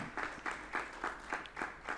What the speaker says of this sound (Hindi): उनके लिए ज़रूर तालियां बजा दें